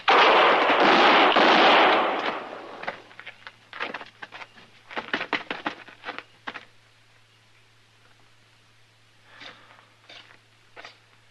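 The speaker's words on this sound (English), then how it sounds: "He missed you, Mr. Dillon. Thank goodness he missed you" Radio drama shootout: a loud blast opens, then a rapid volley of sharp gunshots, then a few scattered later shots fading toward the end, with no voices.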